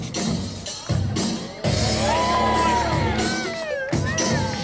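Crowd at a Trial Team Show motorbike stunt event on a Transylvania tour cheering loudly, with whoops and shouts over a continuous roar, plus brief bursts that may be clapping; the noise swells and stays close throughout.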